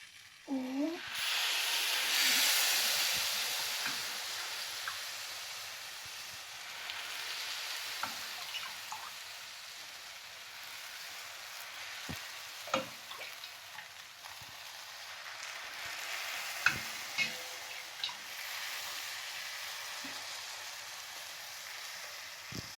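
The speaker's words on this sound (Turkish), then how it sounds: "arkadaşlar şimdi de baklavamıza şerbetimizi dökeceğiz" Sugar syrup (şerbet) poured over a tray of freshly baked homemade baklava, giving a soft steady sizzling hiss with scattered crackles and drips throughout, fairly quiet and close, with no talking.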